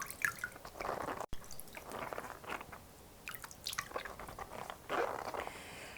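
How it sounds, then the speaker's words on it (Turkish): A lemon is washed by hand in baking soda water, giving close, soft wet splashes, squishes and drips that come and go in small bursts. "15 dakika geçtikten sonra limonun bir güzel karbonatlı suyla yıkayalım."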